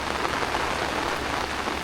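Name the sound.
heavy monsoon rain in a Konkan village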